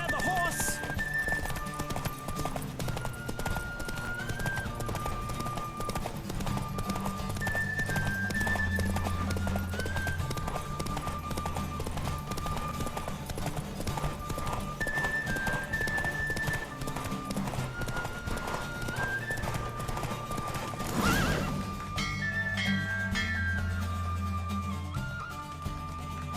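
In the video game The Witcher 3, a horse gallops in a race with steady, rhythmic clip-clop hoofbeats and an occasional neigh, under orchestral music and voices.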